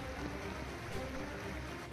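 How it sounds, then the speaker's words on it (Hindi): A boat pushes through floodwater covering roads in a flooded village, giving a steady, continuous wash of water and low motor rumble with no break, fairly close and even in level. "सड़कों पर अब नाव चल रही है।"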